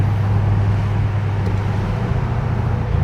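A 2007 Mercedes-AMG SL55 driven fast, heard from inside the car as a loud, steady low engine drone blended with constant road and wind rush, unbroken throughout.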